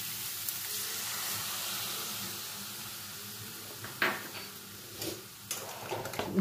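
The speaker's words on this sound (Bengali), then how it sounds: "এবার এর মধ্যে আমি ঈষৎ উষ্ণ গরম জল অ্যাড করে দেব।" Warm water goes into a simmering spiny gourd and potato curry cooked with coconut, a soft steady sizzle and hiss followed by a few clinks and pan scrapes and short bursts of spitting near the end; no talking.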